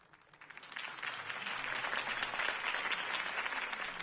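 Applause swells up from a few claps into steady, sustained clapping from a crowd after a campaign speech.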